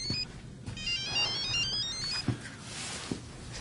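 A mobile phone ringtone plays inside a parked car, a bright repeating electronic melody of descending note runs heard steadily, with a few soft knocks and thumps around it and no speech.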